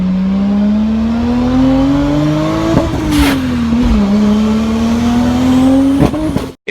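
A turbocharged BMW E30 with a swapped Toyota 1JZ engine accelerates hard, its engine note climbing steadily through the gears with brief dips at each shift, loud and close, before cutting off abruptly with a sharp noise.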